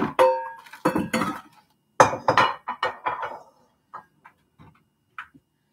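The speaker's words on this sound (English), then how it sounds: "Let's get a bowl out here so we can mix it all up." A mixing bowl being pulled out in a home kitchen, with a cluster of clanks and clinks of dishes and pans, then several scattered lighter taps and knocks that trail off into quiet.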